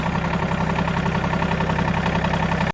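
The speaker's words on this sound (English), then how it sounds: "I'm gonna get the tractor and push it back in" A tractor engine runs steadily in the cold outdoors at a shop where a truck frame is being prepped, giving a continuous, close, even idle with a regular low pulsing throb and no talk.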